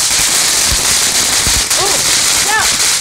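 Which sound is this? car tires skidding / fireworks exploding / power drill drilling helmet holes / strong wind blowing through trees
fireworks exploding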